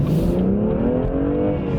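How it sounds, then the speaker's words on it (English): A BMW M2 accelerates, its engine note climbing steadily in pitch as it pulls hard, loud and close throughout with no one speaking. "let's do a little acceleration"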